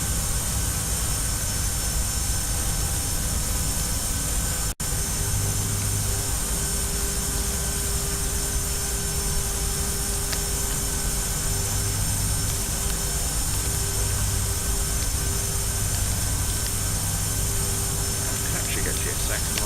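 Engines of a Cessna F406 Caravan twin turboprop in the flight simulator FSX, taxiing to a stand: a steady, loud droning hum with a constant whine that runs throughout, with voices talking over it.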